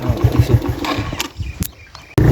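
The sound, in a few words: motorcycle failing to start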